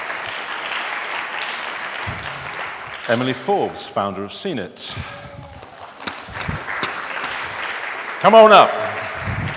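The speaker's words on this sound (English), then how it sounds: "Please give him a round of applause." Audience applause for panelists at a media festival panel event, steady clapping throughout with a presenter's voice speaking over it and a brief louder burst near the end.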